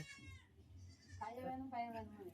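A young goat bleats in a wavering, drawn-out cry at low level in a village setting, with a second quavering bleat following shortly after.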